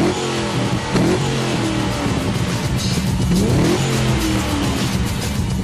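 A 6.2-litre LS3 V8 in a Vauxhall VXR roars through its exhaust as a loud, continuous, rumbling engine note that rises and falls with revs, close and steady throughout, with no talking.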